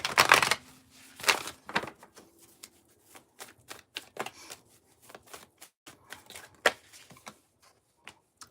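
Tarot cards are shuffled by hand up close, sharp riffles and soft flicks coming in irregular bursts, louder at first and then quieter taps and slides spread across several seconds.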